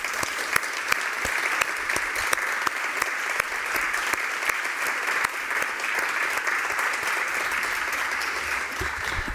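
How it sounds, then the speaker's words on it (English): A conference audience breaks into sustained applause for an honored researcher, loud and close, with sharp individual claps popping out of a thick continuous roar of hands that barely varies in level throughout. "Please, a big applause to Dr."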